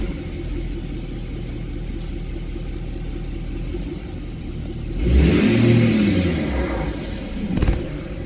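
Ford 6.7 Powerstroke diesel truck engine on a race tune revs sharply up and back down, a loud close burst rising out of a steady idle rumble, followed by a second brief blip.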